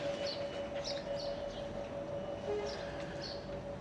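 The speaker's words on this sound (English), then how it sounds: "The Frankston train's on an approach anyway." A suburban Frankston-line train approaches Footscray station, its steady rumble and a sustained tonal whine filling the platform, with faint high squeals overhead and a near, continuous, moderately loud presence.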